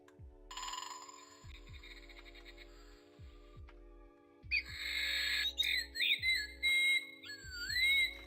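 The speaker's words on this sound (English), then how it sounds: "We've got all of the bird sounds." A repaired electronic toy plays synthetic bird calls: whistling chirps and warbling squawks, quiet at first and then livelier, over a steady repeating low pulse from the device.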